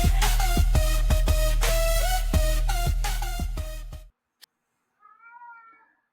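Dense rhythmic music plays loudly and then cuts off, followed by a brief click and a short, faint meow from a studio cat in the quiet.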